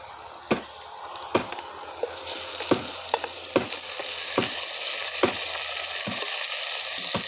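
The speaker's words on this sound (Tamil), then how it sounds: "நல்லா வதங்கணும்." Ingredients for vathal kuzhambu, tomatoes among them, sauté in a pan with a frying hiss that swells and grows steadier, punctuated by regular spatula taps and scrapes, close by with no voices.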